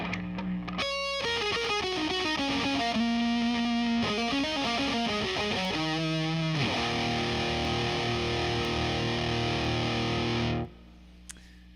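A Les Paul electric guitar through a Marshall DSL40 amp plays heavily distorted riffs and sustained chords, loud and close, before ringing out and cutting to near silence at the end.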